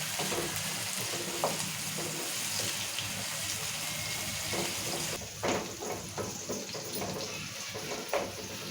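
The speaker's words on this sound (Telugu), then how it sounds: "టమాటాలు కూడా మంచిగా మగ్గాలి ఇలా నూనెలే ఇసుకోవాలి" Tomatoes stewing in oil in a pan for a curry give off a steady, soft sizzle with wet bubbling and occasional stirring scrapes, close by and fairly quiet throughout.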